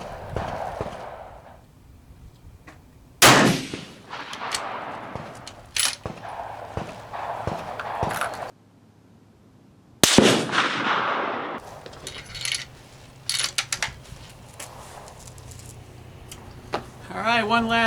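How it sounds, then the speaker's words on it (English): Two loud, sharp rifle shots from a Steyr CISM rifle fitted with a Lencac Arken scope at an outdoor range, widely spaced, each followed by a brief echo, with someone talking between them. "one last shot for a five round group"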